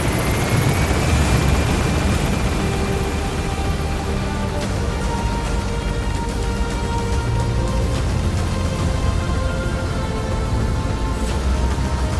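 Extraction helicopter in Metal Gear Solid V: The Phantom Pain, a steady, loud rotor and engine drone that holds throughout with no talk.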